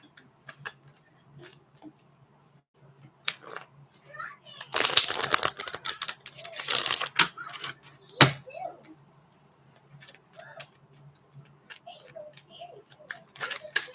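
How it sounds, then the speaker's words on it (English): Tarot cards are shuffled in a quiet room, a brief rapid riffling burst near the middle amid scattered soft taps and clicks of handling, with a voice murmuring faintly nearby. "last shuffle"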